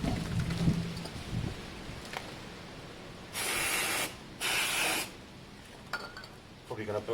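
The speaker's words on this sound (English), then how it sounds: "I'll spray some carb cleaner in there just for the explosion effect" Carb cleaner sprays into the intake of a Honda Varadero 125 motorcycle in two steady hissing bursts of about a second each, close and clear against faint background noise.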